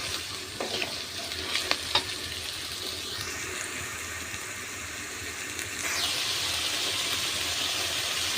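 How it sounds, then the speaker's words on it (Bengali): Ginger-garlic paste sizzles steadily in a pan for chicken curry, a close, continuous hiss with a few stirring clinks early on and the sizzle swelling louder midway. "আদা রসুন বাটা ভাজা ভাজা হয়ে আসলে আমি মরিচের গুঁড়া, হলুদের গুঁড়া, জিরের গুঁড়া, দারচিনি গুঁড়ো দিয়ে দিয়েছি।"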